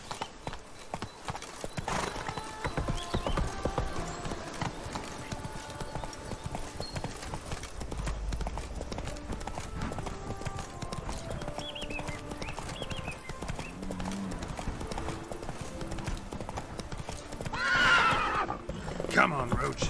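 Roach, the horse in The Witcher 3: Blood and Wine, clops along with continuous hoofbeats under game music and speech, then gives a sharp neigh near the end.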